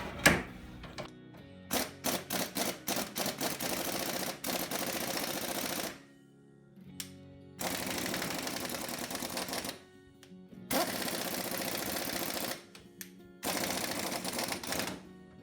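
Pneumatic impact gun hammering on a 2014 Ford Fusion rear shock absorber nut while the rod is gripped in a pipe wrench: a quick stuttering start, then several long rattling bursts separated by short silences, close and loud.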